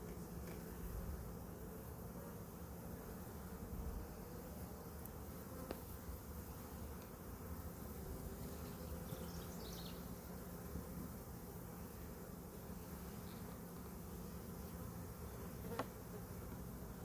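Bees buzzing during removal of a ground swarm: a continuous, dense, steady hum that is fairly faint and close, with no talk over it.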